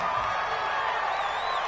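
Stadium crowd noise in a football video game, a broad steady roar of the home crowd with faint whistling cheers rising near the end, continuous and somewhat distant.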